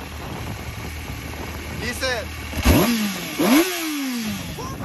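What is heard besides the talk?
Kawasaki ZX6R big bike engine revving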